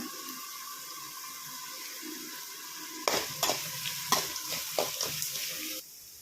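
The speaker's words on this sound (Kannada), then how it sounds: "ಎಲ್ಲ ಹಾಕಿ ಫ್ರೈ ಮಾಡ್ಕೊಳ್ಳೋಣ ಕೆಂಪುಗಾಗೋವರೆಗೂ" Chillies and spices frying in a pan for spicy pepper rice, a steady sizzle that turns busier halfway through as ingredients are stirred with scraping clinks, then drops away near the end, close and without speech.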